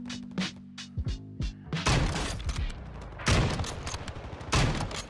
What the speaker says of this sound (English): There's also someone shooting me from range.